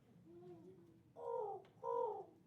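A person imitates pigeon cooing: soft low coos at first, then two louder, drawn-out throaty coo phrases about a second apart, with no other talk.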